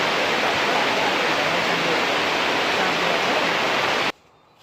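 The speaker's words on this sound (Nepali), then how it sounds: "पानी परिरहेछ।" Rain pours steadily onto a farm field where chilies are being picked, a dense, loud, even hiss of falling water lasting several seconds before stopping abruptly into near quiet.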